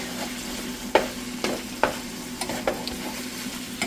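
Pork cooking in a frying pan for an egg roll bowl, a steady low sizzle punctuated by a handful of sharp spatula scrapes and taps at irregular intervals, heard up close without speech.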